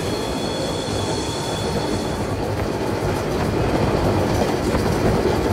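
A goods train rumbles past in an Indian train simulator game on a Bhongir to Jangaon run. A continuous loud roll of wagons carries clickety-clack wheel beats and a thin wheel squeal, with no voices.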